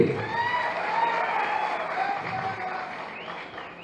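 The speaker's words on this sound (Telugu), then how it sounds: "కేసీఆర్ గారికి, కేటీఆర్ గారికి హృదయపూర్వక ధన్యవాదాలు చెప్పాలంటే గట్టిగా చప్పట్లు కొట్టండి" Crowd at a political rally applauds to thank KCR and KTR, a steady wash of clapping and cheering with whistle-like tones, gradually fading.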